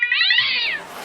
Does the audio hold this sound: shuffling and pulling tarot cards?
no